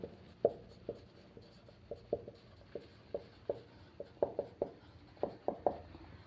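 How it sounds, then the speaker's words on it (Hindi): Pen or marker writing out a hybrid-orbital chemistry formula, a steady series of short scratchy strokes and taps, close and fairly quiet, with no talking. "हाइब्रिड ऑर्बिटल निकालने का जो फार्मूला होता है उसी को हम लिखेंगे"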